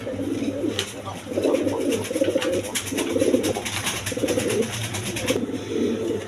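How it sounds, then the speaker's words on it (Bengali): A pair of big, red Toy Lahori pigeons coo nearby in repeated rhythmic bursts, each a low rolling call with short pauses between. "এটা টয়লাহরি একদম বিগ সাইজের দেখার মতো কবুতর"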